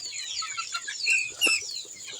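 Hens clucking at feeding time, soft overlapping clucks and a few higher squawks from nearby birds.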